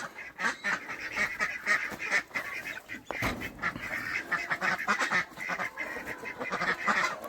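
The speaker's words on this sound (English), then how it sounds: "But what I got is the ducks are already in." Ducks in a winter hoop house quack and honk in busy, overlapping calls, loud and near, steady throughout with no talking.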